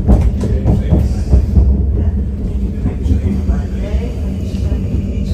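A passenger train heading to an airport in the Netherlands rumbles and clatters steadily from inside the carriage, loud and continuous, with voices talking over it.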